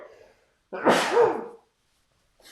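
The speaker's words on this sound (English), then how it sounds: "I'm going to sneeze" A single loud sneeze bursts out after a brief quiet pause, with a faint breathy sound before it and another soft breath at the end.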